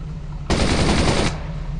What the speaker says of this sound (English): 50 caliber machine gun